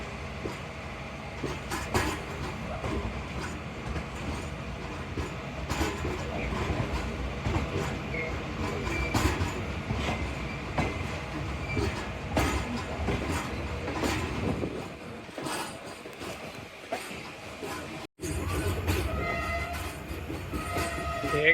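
Allama Iqbal Express pulling away from Kot Radha Kishan station, a continuous rumble of rolling train and rail clatter running steadily throughout, with a brief dropout near the end.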